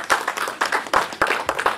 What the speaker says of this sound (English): come on, give the panel a clap